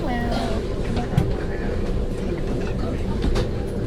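A mountain train runs along the Voss to Myrdal line in Norway, its steady low rumble and wheel noise filling the carriage without a break, with a voice speaking over it.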